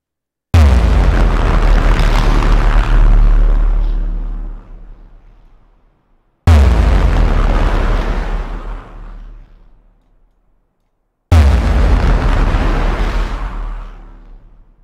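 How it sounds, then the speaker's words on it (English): Three synthesized movie-trailer explosion hits with deep LFE rumble, made in Massive software, each a loud sudden boom that decays over several seconds, separated by silence. "that is a synthesized explosion sort of LFE"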